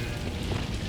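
Incendio fire spell cast in the game Hogwarts Legacy, a brief, dense whoosh of crackling flame that stays steady and fairly loud throughout.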